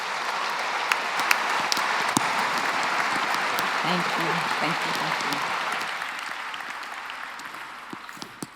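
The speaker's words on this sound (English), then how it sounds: "welcome Kensa with a very warm applause" Warm audience applause greets a keynote speaker at a sport psychology conference in Padova, steady sustained clapping that slowly tapers, with a voice briefly speaking over it.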